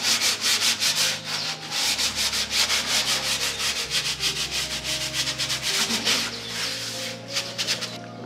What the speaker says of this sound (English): After that light sanding,